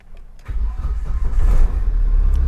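A Tata Safari Dicor SUV with over 100,000 km on it cranks and catches, its engine firing up and settling into a steady, loud idle with a slight rev.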